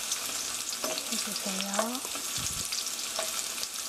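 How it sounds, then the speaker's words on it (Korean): Garlic fries in olive oil pooled on one side of a tilted pan for spaghetti aglio e olio, a close, steady sizzle with soft stirring sounds and a brief spoken phrase. "이렇게 한쪽으로 기름을 기울이셔서 튀기듯이 노릇노릇하게 튀기듯이 구워주세요"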